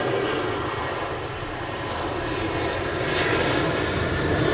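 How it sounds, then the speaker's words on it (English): A Ryanair Boeing 737 rolls for takeoff at Manchester Airport, its engines a loud, steady roar that holds throughout and swells slightly toward the end. "Right now, 737 now rolling."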